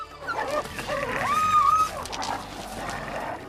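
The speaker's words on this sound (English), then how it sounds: "wolves can produce a variety of sounds, including barks" A wolf whines in a rising, drawn-out tone with a few short yips around it, close and fairly loud against a dim background.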